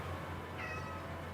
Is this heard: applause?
no